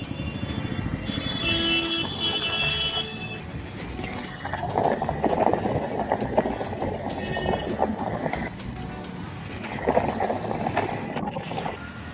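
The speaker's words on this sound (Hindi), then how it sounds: "ट्रैफिक बहुत ज़्यादा है रास्ते में," Busy road traffic on a street ridden through by bicycle, with a steady wash of engines and passing vehicles, a continuous loud rumble with occasional horn-like tones, and voices talking over it.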